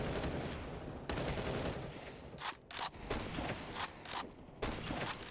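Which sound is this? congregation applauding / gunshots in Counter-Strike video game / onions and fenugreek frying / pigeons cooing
gunshots in Counter-Strike video game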